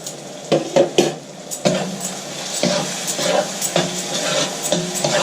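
A spoon stirs and scrapes through a spiced mixture of stale bread, vegetables and ketchup in a metal pan, with a soft sizzle underneath and a few clinks against the pan. The sound is close and irregular, and no one speaks.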